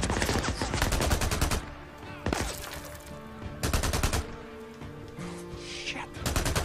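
Enemy gunfire in Days Gone, rapid automatic bursts in two long volleys separated by quieter gaps with scattered single shots, loud and close.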